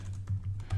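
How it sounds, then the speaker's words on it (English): Quick keystrokes on a computer keyboard, a few soft close clicks in an uneven burst, alone without talk. "I'm just typing it in here"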